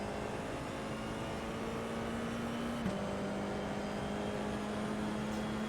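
An F4 race car at Magny-Cours in iRacing drones at a steady engine note, close and even, with a brief dip midway before the tone holds again.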